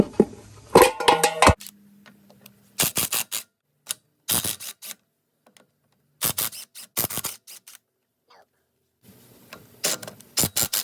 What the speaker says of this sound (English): We're going to pop the hubcap off.